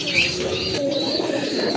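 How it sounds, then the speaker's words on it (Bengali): Lahori pigeons in a blue-bar colour coo in a soft, continuous throaty murmur close by, with faint chirps and a steady hum of background ambience. "আরেক জোড়া কবুতর, লাহোরি কবুতর।"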